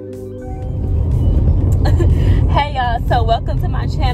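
A car driving along with a steady engine and road rumble throughout, and a person talking over it in the second half.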